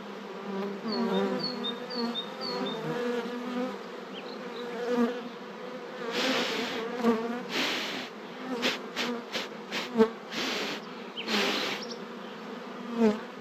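Honey bees buzzing on a hive frame as they are gently brushed off the cells during queen rearing, a close, continuous droning hum with louder bursts of buzzing that flare up and fade several times.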